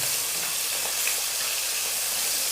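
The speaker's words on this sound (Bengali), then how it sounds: "আমি এখন এটাকে দুপাশ ভালো করে ভেজে নিচ্ছি।" A steady, moderate sizzle of koi fish (climbing perch) frying in oil over low heat, hissing evenly without pause or speech.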